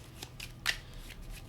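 Close, quiet shuffling of hunt event cards from the Kingdom Death Monster board game, soft riffling strokes with one sharper snap midway.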